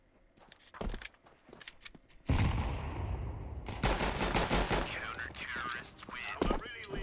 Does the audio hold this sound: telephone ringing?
no